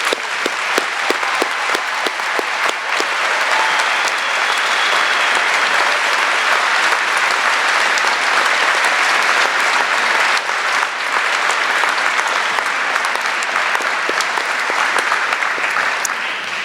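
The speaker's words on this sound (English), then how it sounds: "join me in giving you a round of appreciative applause" A large commencement audience at the Pitt Law 2018 graduation gives sustained applause for the graduates' parents, dense, even clapping that holds steady at full strength for the whole stretch with no speech over it.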